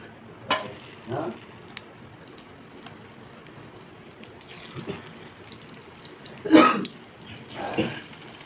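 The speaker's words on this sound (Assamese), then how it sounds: "এতিয়া ভাজা হৈছে" Chili chicken pieces fry in hot oil in an iron wok, giving bursts of hissing sizzle that swell and fade several times over a low background while a voice talks in between.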